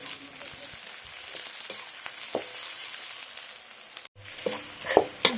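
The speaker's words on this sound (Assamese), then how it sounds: "এতিয়া পিঁয়াজখিনি দি অলপ সময় ভাজি আছোঁ।" Onions fry in oil in a wok with a steady soft sizzle. A few sharp clinks and scrapes of stirring rise near the end.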